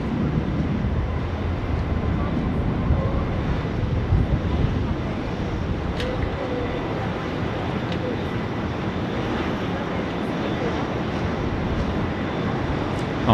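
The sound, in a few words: Singapore Airlines A380 airplane at Sydney Airport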